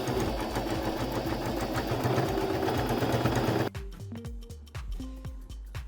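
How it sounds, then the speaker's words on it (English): A sewing machine stitches a seam on a fabric pillow: steady continuous whirring for several seconds, then it slows and stops into a few short separate stitch bursts, close and loud with no talking. "I sew this seam the same ways as the previous"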